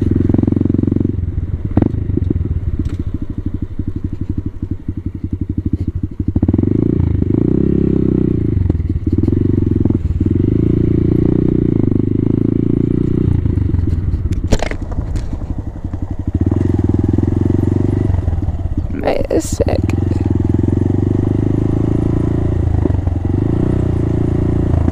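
A Honda Grom motorcycle being ridden, its small engine droning loudly and steadily throughout with shifting revs, plus wind buffeting and occasional clattering knocks, all close to the microphone.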